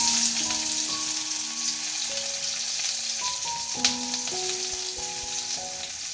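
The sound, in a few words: chicken frying in a pan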